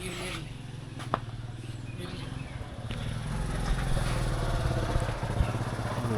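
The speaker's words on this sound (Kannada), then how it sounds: "ಗೌಡ್ರ ಬೈಕ್ ಹೆಂಗೆ ಗಡ ಗಡ ಗಡ ಗಡ ಸೌಂಡ್ ಮಾಡ್ತೈತೆ" A motorcycle engine runs close by with a rough, rattling idle, a continuous low throbbing chug with occasional clanks and no clear speech.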